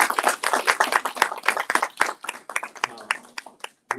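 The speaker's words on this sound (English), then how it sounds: "could you give our panel a round of applause?" A workshop audience gives a panel a round of applause after a women's financial inclusion discussion, a short burst of hand clapping that thins out quickly, with a voice talking over it.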